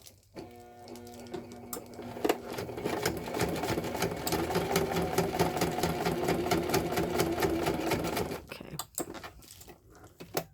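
A sewing machine top stitches a journal cover made from a padded envelope, running in a steady rapid mechanical whir for several seconds after a brief start, then stopping near the end.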